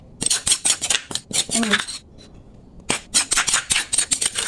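A knife cuts boiled mushrooms into pieces on a board, a rapid run of sharp close chops, a brief pause with a small clatter, then another quick burst of chopping.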